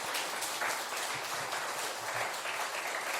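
A church congregation applauds during a Sunday worship service, steady continuous clapping from many hands filling the room at a moderate distance, with no voices over it.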